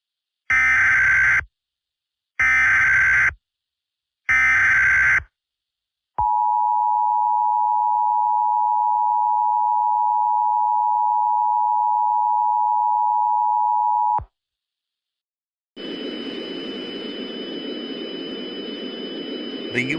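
Emergency Alert System attention sequence: three loud identical digital data bursts, then a long steady electronic tone alone, a brief gap, then a sustained noisy hiss with a faint high whine.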